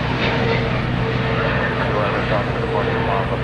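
An American Airlines Boeing 777-300ER inbound from London Heathrow on arrival at DFW Airport at night, a steady, loud jet engine roar and broadband rumble sustained throughout with no pauses.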